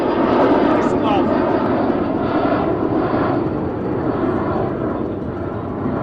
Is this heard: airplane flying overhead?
yes